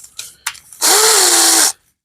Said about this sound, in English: So I just countersink that a little bit.